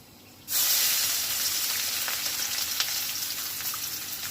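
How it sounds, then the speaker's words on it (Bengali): Chopped onion hits hot oil with cloves and sizzles, a sharp onset followed by a steady, close frying hiss with small crackles throughout. "পেঁয়াজটা একটু লাল লাল করে ভেজে নিতে হবে"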